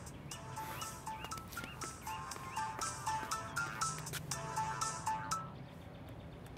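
A phone ringtone plays a repeating electronic melody, fairly quiet and nearby, looping several times before stopping.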